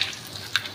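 Shallots crisping in hot cooking oil in a pan, a soft continuous sizzle with small crackling pops, heard close and alone.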